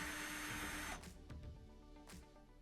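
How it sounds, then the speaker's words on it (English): Power driver whirs as it backs screws out of a Frigidaire laundry center dryer panel, a steady close motor buzz that cuts off after about a second, then a few faint clicks and taps. "let's pull out a couple of these screws here"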